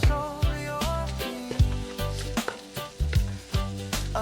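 Onion and ginger sizzling in a frying pan for pork adobo, a steady close sizzle broken by rhythmic scraping and stirring strokes, with no talk.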